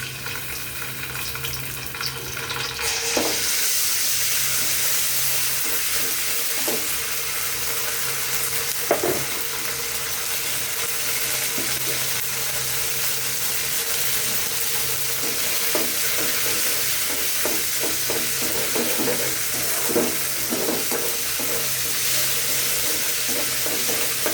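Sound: frying ginger garlic paste in oil

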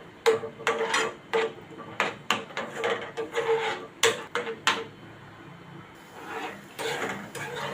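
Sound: stirring coconut laddu mixture with milk powder in pan

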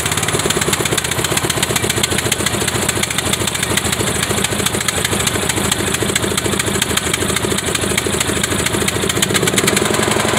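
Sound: Craftsman small engine running with carburetor choke

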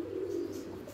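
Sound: pigeons cooing while being fed

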